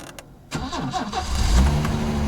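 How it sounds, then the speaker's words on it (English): A Peugeot 505 V6 engine cranks briefly after a short quiet pause, then catches and fires up at once, settling into a steady, close-up running hum with a slight rise in revs. "So the subsequent crank is supposed to now work much better."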